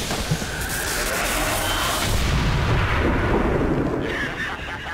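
A sniper rifle shot fells the final boss in XCOM 2, heard as a loud, booming blast with a long rumbling, crackling tail that fills the whole moment.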